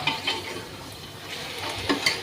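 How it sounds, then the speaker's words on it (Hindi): Onions frying with spices in a pan for a chole curry, a steady soft sizzle with faint scraping stirs near the start and end, close and moderately quiet. "और ये प्याज भी भून गई है"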